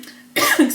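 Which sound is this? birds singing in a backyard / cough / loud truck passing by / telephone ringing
cough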